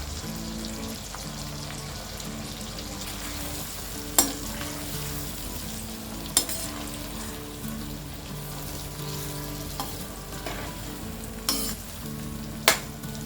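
Lime pickle with salt cooking on a low flame gives a steady soft sizzle, with a few sharp stirring scrapes and clicks of a spoon against the pan. No one speaks.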